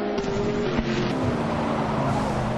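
A Corvette race car on track at Laguna Seca Raceway, its engine roaring loud and steady with a harmonic tone that shifts pitch as it runs through a corner, without any talk over it.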